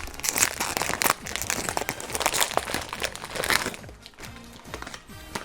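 Someone struggles to open a snack packet, and the plastic crinkles and crackles in dense, irregular bursts at close range. The handling eases into softer rustles toward the end.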